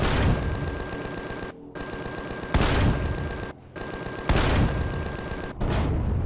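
Gatling turret firing in Empyrion Galactic Survival, loud sustained rapid-fire bursts cut by brief pauses, repeating several times with a steady mechanical whine underneath.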